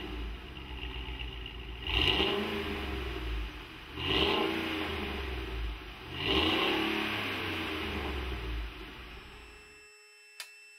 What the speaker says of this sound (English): We're going to take a couple sound clips of it stock right now